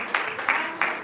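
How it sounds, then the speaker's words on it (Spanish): A church congregation clapping in praise during a morning service, three sharp, evenly spaced handclaps in quick succession. "aplauda para el Señor en esta mañana"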